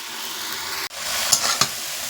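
Bottle gourd leaves fry in a pan with a steady, close sizzle, broken by a brief cut-out and a couple of soft scraping stirs, with no voices.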